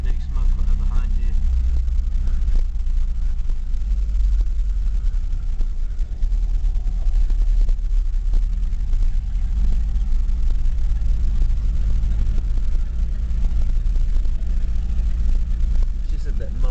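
A 1989 Mazda B2200 four-cylinder pickup rumbles steadily up close with a deep throaty roar from a holed muffler, continuous throughout.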